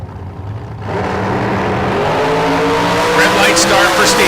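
Drag racing cars launch down an eighth-mile drag strip at a Spring Fling Million event, a loud sustained engine roar building from about a second in and holding steady to the end, with a commentator talking over it.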